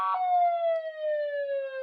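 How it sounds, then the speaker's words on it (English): A loud, sustained siren at a minor-league baseball game between the Auburn Doubledays and Elmira Pioneers, sounding after a run scores; a single long steady wail that glides slowly downward in pitch, heard alone. "here's that siren again"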